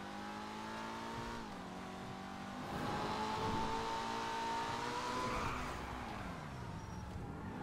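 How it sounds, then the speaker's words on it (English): A car in GTA 5 speeding along with a steady engine drone, revving higher mid-run, then braking as the engine pitch drops, with faint tire noise and no talking. "We'll go quickly down here and then we'll brake."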